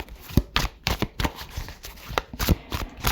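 A tarot card deck is shuffled by hand in a series of sharp, close riffling bursts and snaps, irregularly spaced, loud and alone with no talk.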